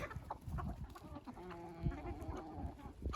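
Village chickens cluck and peck at scattered bread and rice, with a busy cluster of nearby clucks and soft pecking sounds close to the recorder.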